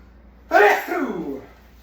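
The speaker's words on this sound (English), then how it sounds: "I got the pepper sneezes." A single abrupt pepper-induced sneeze bursts out close by, sharp at the start and tapering into a breathy, throaty tail.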